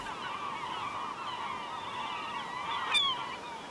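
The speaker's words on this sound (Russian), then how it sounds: "На крутых утесах полуострова гнездится великое множество птиц." A dense colony of seabirds nesting on steep cliffs on a peninsula fills the air with continuous overlapping honking calls, steady and moderately distant, with one louder call near the end.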